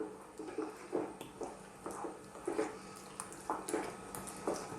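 Chicken mac and cheese is stirred constantly in a pan on low heat, giving soft, wet squelching sweeps at a slow, regular pace, each swirl a quiet squish of thick cheesy sauce, with no talk.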